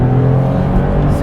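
A cold Porsche 996 engine revved hard toward 6,000 RPM, a loud, close, sustained roar lasting about a second.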